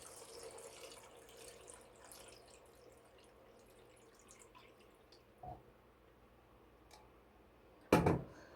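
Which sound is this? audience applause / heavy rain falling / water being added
water being added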